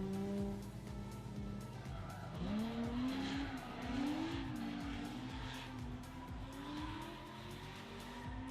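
Drift cars at a Drifting the Plains event skid with rising and falling tire squeal over a steady engine roar, sustained through the run.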